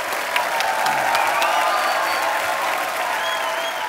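Loud studio audience applause greets guests on a Hindi television comedy show, dense and continuous with a few faint cheers mixed in.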